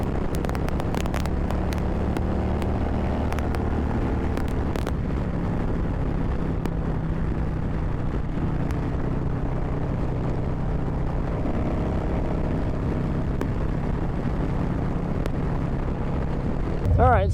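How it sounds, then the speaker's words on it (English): A 2023 Harley-Davidson Road Glide ST rumbles steadily along at cruising speed, its low engine drone mixed with constant wind rush. "we're back on the bike now, riding around"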